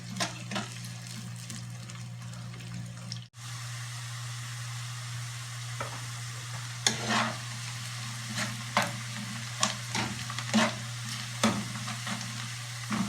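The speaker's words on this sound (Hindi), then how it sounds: "सबसे पहले हम प्याज हल्के ब्राउन कर लेंगे।" Onions frying in a pan for chicken karahi, a steady close sizzle with a constant hum underneath and a series of sharp stirring scrapes and clinks in the second half, no voices.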